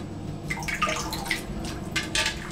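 Hands splash cold water onto a face: soft, irregular wet splashes and drips close by, repeating in small bursts over a steady watery background.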